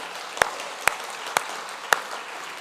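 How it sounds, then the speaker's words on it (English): Graduation ceremony audience applauding graduating students at an evening event, heard as a thin, fairly quiet patter of clapping with a few sharper, louder claps standing out at regular intervals. "another round of applause for all of our graduating students tonight"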